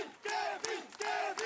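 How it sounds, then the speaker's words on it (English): Kevin Pauwels' fan club cheers at the Elite Men's cyclo-cross World Cup race in Valkenburg, Netherlands, a loud crowd shouting in bursts with brief gaps between. "but his fan club will still cheer him"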